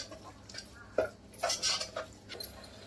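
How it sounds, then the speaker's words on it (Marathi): A spoon scrapes and clinks through a fenugreek leaf and spring onion mixture in a pan, with a few scattered stirring strokes and metallic taps, close by and fairly quiet, with no talking. "चांगलं मिक्स करून घेऊया"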